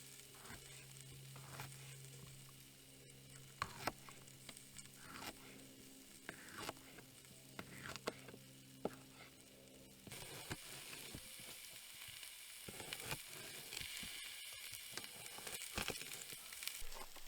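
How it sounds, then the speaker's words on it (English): Partially frozen bratwurst cooking low and slow on a propane camp stove at a campsite, a steady soft sizzle and crackle with faint pops throughout, growing slightly brighter and busier in the last part, no talk. "We'll go ahead and get the brats started now because they're still partially frozen, so got to cook them low and slow."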